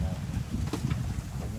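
Steady wind roaring across open water between islands off Mallorca, heard from a yacht, a broad low rumble with gusty buffeting against the microphone throughout.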